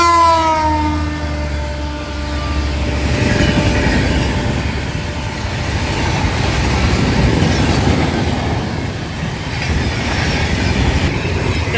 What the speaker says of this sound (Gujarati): આ નીકળી ગઈ ટ્રેન.